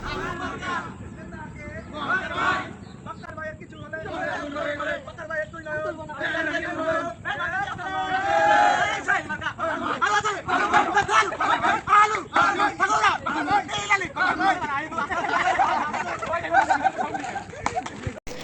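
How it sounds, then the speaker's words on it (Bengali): A crowd gathered over tea chants a slogan in loud rhythmic unison, many voices rising and falling in repeated phrases, close and lively with background chatter. "এবার কিন্তু একটা স্লোগান শুনতে হবে"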